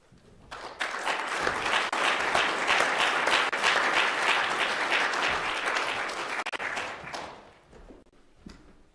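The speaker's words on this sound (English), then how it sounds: "give him a warm round of applause" Warm audience applause welcomes a guest speaker at a lecture on the future of learning: dense, steady clapping that holds for several seconds, then thins out and fades near the end.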